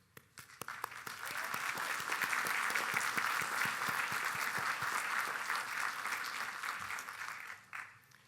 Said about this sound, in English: take this moment to applaud those who have supported you